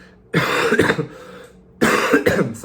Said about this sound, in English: I've had a cough for a couple weeks